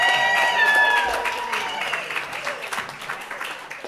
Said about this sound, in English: It's a raucous crowd.